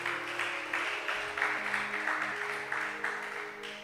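Rhythmic clapping from a church congregation under sustained organ or keyboard chords, fairly distant and steady.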